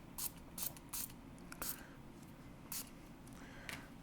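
Water sprayed from a hand spray bottle onto clay during ring-making, in about eight short, quiet hissing spritzes at uneven intervals, each with a faint click from the trigger, and no talk.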